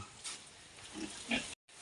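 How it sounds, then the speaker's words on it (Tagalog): Pigs on a farm give a few short, low grunts, one a bit louder near the end, close by and over faint background noise. "So ito mga idol yung baboy oh."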